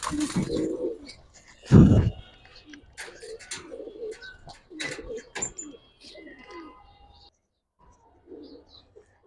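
Giribaz pigeons coo in soft, repeated bursts with a louder burst near the start, several birds calling close by over a quiet loft background.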